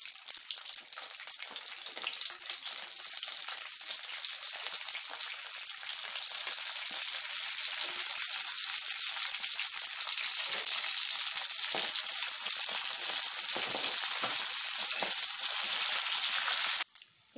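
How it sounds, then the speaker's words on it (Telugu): Dried red chillies fry in a spoonful of hot oil, a loud continuous sizzle that holds steady for the whole stretch before stopping abruptly at the end. "ఆయిల్ వేడెక్కిన తర్వాత మొదటగా ఎండుమిర్చిని ఫ్రై చేయాలి."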